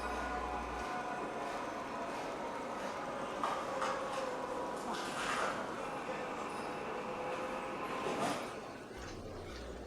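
An empty model logging train, from the early railroading period, rolls along the tracks of a large layout with a steady rumble and clatter. Someone narrates over the sound until it fades.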